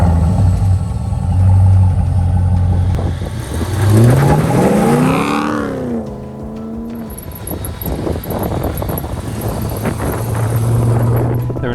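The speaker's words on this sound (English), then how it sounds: "Heritage is powered by a 430 horsepower LS3 with 6-speed automatic transmission." A custom Land Rover Defender 110 with a 430-horsepower GM LS3 V8 and six-speed automatic roars loudly, its engine note climbing sharply then falling away as it revs, with wind buffeting throughout.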